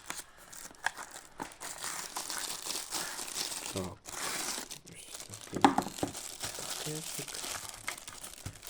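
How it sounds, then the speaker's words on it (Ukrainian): Continuous crinkling and rustling of plastic and paper packaging close by as a lamp is unpacked, with occasional tearing and crunching. "ось так ми її розпаковуємо."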